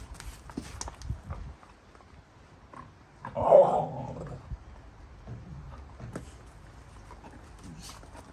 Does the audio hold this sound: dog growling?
yes